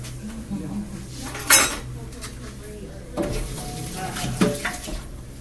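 A ladle and other kitchen utensils clatter against pots and dishes in a home kitchen, giving a sharp metallic clank near the start and softer knocks later, over a quiet room background with faint water.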